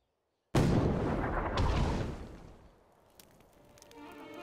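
A mortar artillery blast in Assassin's Creed Chronicles: India erupts suddenly after a brief silence: one heavy, deep boom that rolls on for about two seconds, then fades into a low rumble with faint clatter.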